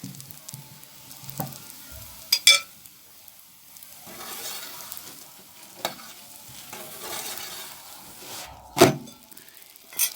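Soft, low sizzling of gözleme flatbread cooking on a hot griddle, with occasional scrapes and clatters and a few louder bumps, no talking.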